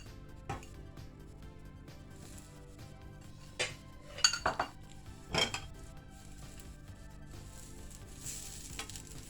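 Butter is set on a cheese and pepper gözleme in a hot pan, giving a low, steady sizzle with a few light clinks of a utensil against the pan.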